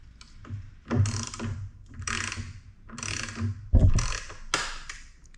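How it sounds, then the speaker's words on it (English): A ratchet wrench tightens bolts on the rear side covers of a 2021 Yamaha MT-07, several bursts of rapid clicking separated by short pauses, close and fairly loud with no talking. "I'm going to go through and tighten everything up."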